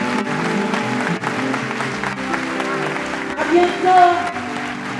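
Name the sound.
audience applause for Didier Manika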